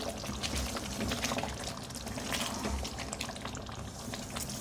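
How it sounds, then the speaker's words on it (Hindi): Whisked yogurt poured into frying mutton for aloo gosht, a steady close pouring and sizzling wash that runs without a break through the whole stretch, with no one talking. "4 टेबल स्पून दही लिया है, ये डालूँगी फेंट कर।"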